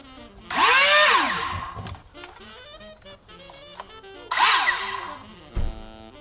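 Nerf Stryfe blaster fitted with Worker 42.5 Crush flywheel motors on a 3S LiPo battery, one wheel not spinning and rubbing: two loud, close high-pitched whines rising and falling away, with a short clack after the second.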